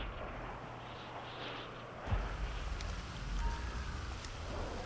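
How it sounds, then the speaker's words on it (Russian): Rain falling in GTA V Online, a steady hiss of drops with a low hum that cuts off partway and a soft wind-like wash throughout. "Мне тоже дождь идет."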